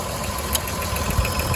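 Engine of a 2008 Dodge Nitro with the 3.7 V6 running rough from a bad fuel injector, giving a steady close-up idle drone with faint uneven pulses and a slight knock throughout, with no voices.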